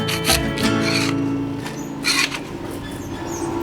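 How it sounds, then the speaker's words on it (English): Hardened red crayon wax being scraped off the top of crayon moulds, a steady rough rubbing and rasping that runs continuously, loud and close, with no voices. "the wax mixture on top has gone hard and needs to be scraped"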